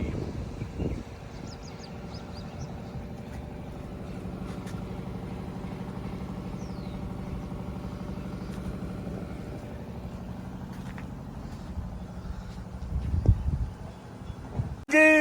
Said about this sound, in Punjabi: ਲਾਈਟ ਗਈ ਭੱਜ ਤਾਂ ਹੀ ਆ ਜਨਰੇਟਰ ਦਾ ਖੜਕਾ ਸੁਣਦਾ ਤੁਹਾਨੂੰ